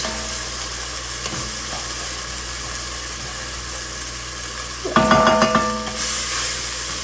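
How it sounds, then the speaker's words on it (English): Chicken broth hitting a hot soup pot to deglaze the bottom, a sudden loud hiss and sputter after a steady background hum, bubbling on briefly before easing back down, with no talk. "I'm going to add a little bit and kind of deglaze the bottom of my pan before I add in the rest."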